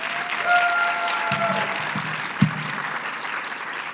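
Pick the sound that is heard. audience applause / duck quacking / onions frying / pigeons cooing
audience applause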